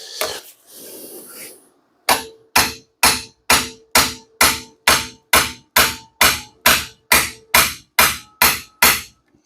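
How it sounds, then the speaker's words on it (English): A hammer repeatedly strikes a hammer driver set against a stuck Bison vise: after some faint shuffling, about fifteen sharp metallic blows land in a steady, evenly spaced rhythm, loud and close. "hopefully we can get some movement with the hammer driver"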